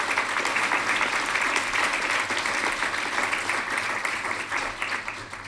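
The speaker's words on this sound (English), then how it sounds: "Would you guys please give this student another round of applause" Sustained audience applause for a student at a youth-in-government event, a dense wash of many hands clapping that stays loud and steady for several seconds before easing slightly at the end.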